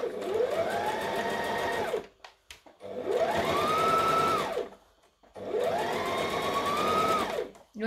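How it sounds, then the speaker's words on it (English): A domestic sewing machine stitches a seam allowance to an interfaced facing in three separate bursts, each whirring run rising in pitch, holding steady, then stopping, with short quiet pauses between. "We want to be stitching the seam allowance to the facing piece with as little wrinkles as possible."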